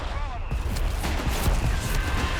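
Artillery fire in Company of Heroes 3 during a 1v1 match: a dense, loud barrage of booming impacts and crackling blasts rolling one after another through the whole stretch.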